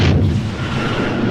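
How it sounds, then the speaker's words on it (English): A nuclear weapon launch in Metal Gear Solid 3: a loud, continuous low rumbling roar with a brief hiss at the start, sustained and dense throughout, no voices. "Bro, this man just shot a freaking nuke"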